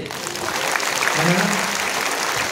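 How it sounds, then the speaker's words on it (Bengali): A crowd applauds steadily, dense continuous clapping that fills the space for a few seconds. "একটা তালি হবে নাকি?"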